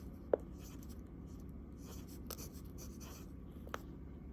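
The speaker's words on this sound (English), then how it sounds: "So let's write that down." A Lamy fountain pen nib writes on paper with Diamine Rustic Brown ink, giving faint close scratches and strokes with a few light taps of the pen, all quiet and with no talking.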